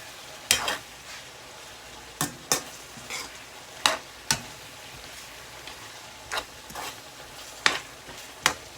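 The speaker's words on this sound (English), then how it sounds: "So I'm gonna saute and saute first because I want the carrots to not overcook" Napa cabbage, celery and carrots sautéing in a pan for spicy pancit canton, a soft background sizzle punctuated by sharp, spaced clacks of a utensil striking the pan, close up with no speech.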